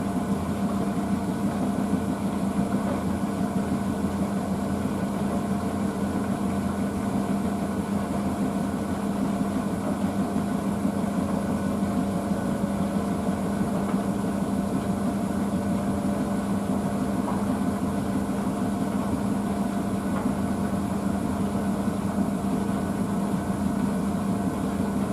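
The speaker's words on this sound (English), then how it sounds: "this machine does a progressive spin anyway" Blomberg WNF9448 washing machine on its final spin with denim jeans, bottoms and a towel, a steady low motor hum and drum whir holding constant throughout, close and continuous with no talking.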